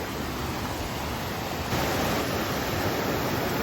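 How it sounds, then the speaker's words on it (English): A waterfall swollen by heavy rain roars in a broad, steady rush of water, loud and continuous with no pauses, and grows slightly louder partway through. "we had a lot of rain this week, so the falls are looking pretty"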